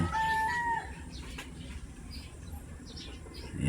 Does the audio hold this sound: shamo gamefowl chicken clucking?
yes